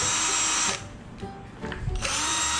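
A power drill drives screws into a wooden speaker box, two loud whirring bursts at the start and end with a quieter pause of clicks and knocks between them, and no talk.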